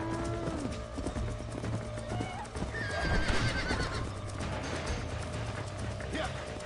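A horse in the Red Dead Redemption western game on PS5 lets out a whinny while hooves clop and pound in a gallop, with game ambience and someone talking over it.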